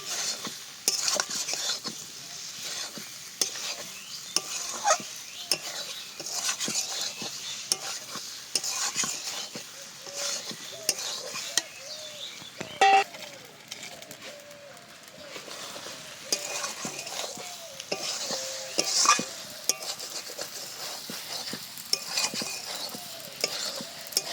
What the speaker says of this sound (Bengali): এবার দিয়ে দিচ্ছি ভেজে রাখা সয়াবিন আর আলু। এবার এর সাথে সব কিছুকে খুব ভালো করে মিশিয়ে তারপরে জল দেবো।